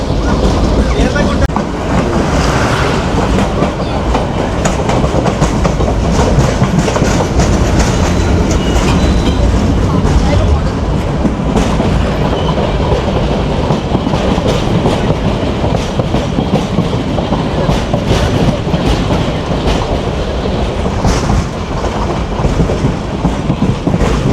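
Probal Express passenger train running on rails between Cox's Bazar and Chattogram in Bangladesh, heard from on board as a steady loud rumble with rhythmic clickety-clack of wheels over rail joints throughout, with faint voices mixed in.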